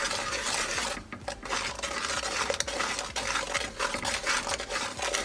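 Spices are stirred into a lemon pickle with a spoon in a bowl, a continuous close scraping and clinking with steady rhythm and no speech.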